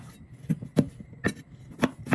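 A potato is peeled with a knife, giving close, crisp scraping strokes that repeat about every half second over a quiet kitchen background, with no talking.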